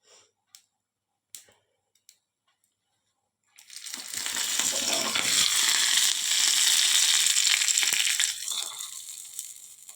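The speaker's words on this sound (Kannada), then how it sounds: "ಎಣ್ಣೆ ಸಾಸಿವೆ ಹಾಕಿ ಸಾಸಿವೆ ಚಟಪಟ ಅಂತ ಸಿಡಿದ್ರೆ ಒಗ್ಗರಣೆ ರೆಡಿ" Mustard seeds crackling in hot oil for tempering: a few faint clicks, then a loud sustained sizzle with dense popping that swells for several seconds before tapering off, close and with no talk.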